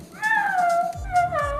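A person imitates a cat's meow, drawing out two falling, nasal meow-like calls near the microphone, with small background noises and no clear talk.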